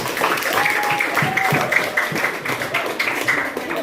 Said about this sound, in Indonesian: tepuk tangan untuk adiknya.